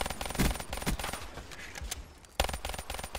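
Rapid gunfire in a multiplayer video game shooter: dense, rhythmic bursts of sharp cracks throughout, with a brief lull and then another loud volley.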